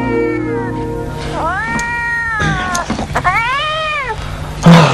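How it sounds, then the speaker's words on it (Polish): Several domestic cats meow and caterwaul in long, wavering, rising and falling cries, close and loud, one after another over the whole stretch, with a low steady hum underneath and a brief thump near the end. "żeby te pieruńskie koty przestały miałczyć"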